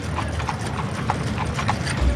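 Hooves of a donkey clip-clopping at an outdoor event, a steady run of regular, moderately close hoof strikes over a constant background murmur.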